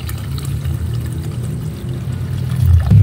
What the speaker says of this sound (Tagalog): maglalagay na tayo ng tubig sa ating nilalaga at natuyuan na